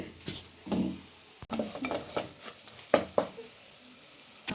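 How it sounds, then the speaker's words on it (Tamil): Soft sizzling comes from onions and tomatoes sautéing in a pan while a utensil scrapes and stirs in irregular strokes, quiet and close. "சேர்த்து நல்லா வதங்கட்டும் வெங்காயம் தக்காளி எல்லாம்"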